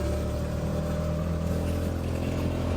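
Steady motorcycle engine drone while riding through Sri Lanka, a continuous low rumble with road and wind noise throughout, close and loud, no speech.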